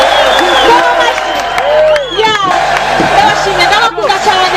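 A concert audience in Muyinga claps and cheers at close range, with excited whoops and crowd chatter mixed into the steady roar of applause, which dips briefly before swelling again.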